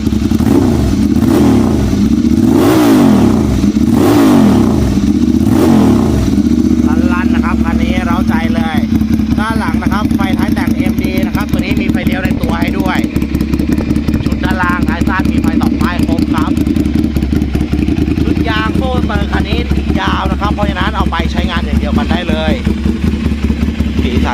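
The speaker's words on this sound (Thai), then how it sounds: "เดี๋ยวขออนุญาตเบิ้ลเครื่องนิดนึงนะครับ" A Ducati 795 motorcycle engine revs hard several times up close, then drops to a rough, rattling idle while someone talks over it.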